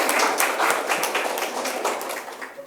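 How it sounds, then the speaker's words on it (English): Audience at a school debate competition clapping, a dense burst of hand claps that stays loud and steady, then begins to thin out near the end. "a huge round of applause for all of you, all the participants,"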